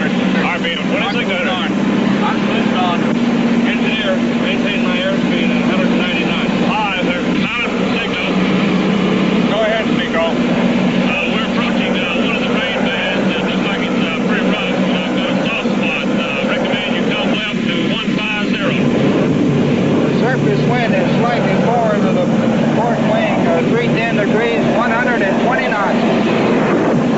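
Hurricane hunter aircraft propeller engines held at 2600 RPM during a penetration run into a hurricane eye, a loud, constant droning roar with a steady tone throughout, with crew voices talking over it at times.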